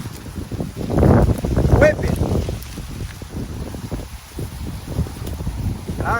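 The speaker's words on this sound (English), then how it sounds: "Boy, that wind is whipping." Strong outdoor wind buffets the microphone with a low, rumbling roar that surges and fades throughout, mixed with a voice speaking and singing.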